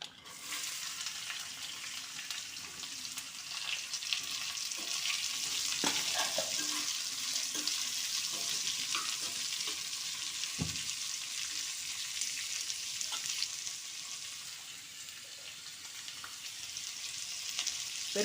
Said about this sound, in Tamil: கடுகு, உளுத்தம்பருப்பு, கடலைப்பருப்பு எல்லாம் பொரிய விட்டுருக்கேன்